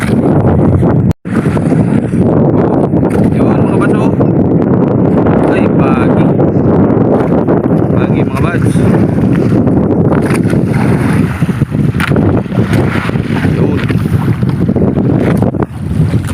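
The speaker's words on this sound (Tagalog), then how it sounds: "lumakas na naman yung hangin" Strong wind roars continuously across the microphone on a small net-fishing boat out at sea during lobster fishing. The dense, steady rush barely lets up for the whole stretch.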